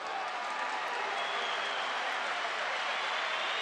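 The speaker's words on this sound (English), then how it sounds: "Crowd cheering." A large crowd at an MMA fight in Burgas, Bulgaria, sending up a steady wash of cheering and applause, even and unbroken, heard from a distance.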